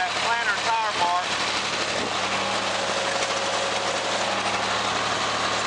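A tractor engine hums steadily while pulling a soybean planter across a field, a continuous low drone with vibration and someone talking over it early on.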